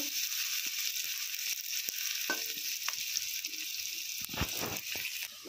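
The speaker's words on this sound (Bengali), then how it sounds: "প্রথমে গাজরটাকে একটু হালকা করে ভেজে নেব।" Carrots fry in a pan for spicy egg masala pasta, a steady soft sizzle with faint clicks and scrapes from occasional stirring.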